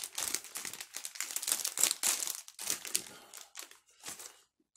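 Plastic wrapping on a packaged cheese toast club sandwich crinkles and rustles as it is pulled open, with quiet, uneven bursts of crackling that fade near the end.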